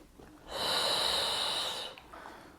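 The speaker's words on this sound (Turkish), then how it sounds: "Nefes aldım." A single deep, breathy inhale lasting over a second, close to the microphone and taken during a pregnancy back exercise with a resistance band, with quiet room tone before and after.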